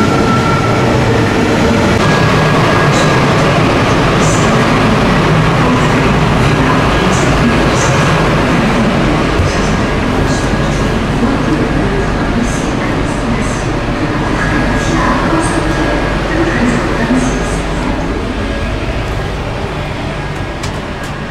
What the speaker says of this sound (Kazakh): Мына жерге шамамен осындай пойыз келеді, тоқтайды.